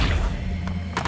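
An Accio summoning spell in the Hogwarts Legacy video game, heard as a short, heavy thumping whoosh with a couple of quick sharp taps right after.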